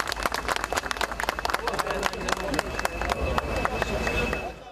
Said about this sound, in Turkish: Mahalleli alkışlarla ekiplere teşekkür etti.